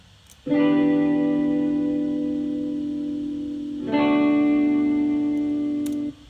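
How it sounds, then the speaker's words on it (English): Two sustained, heavily effected electric guitar chords ring out one after another, the second entering around the four-second mark, thick and saturated with no voices. "the next thing I added were these 2 guitar chords that are electric guitar chords"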